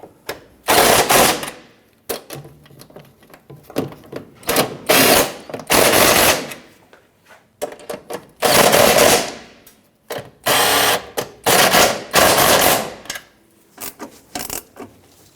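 A power tool, probably an impact wrench, tightens the seven anchoring nuts on a 1997-2006 Jeep Wrangler electric fuel pump in a series of loud rattling bursts, each lasting about a second and separated by short pauses.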